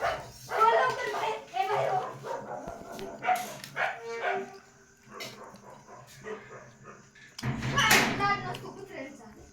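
Dogs at a house bark and whimper near a gate, sharp yips mixed with loud nearby voices of people talking, and a clatter like a gate or door toward the end.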